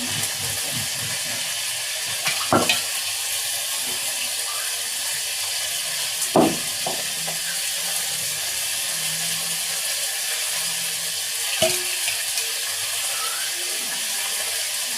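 Fish frying in spiced masala in a pan on a stove, a steady loud sizzling hiss throughout with a few brief clanks of utensils, no speech over it.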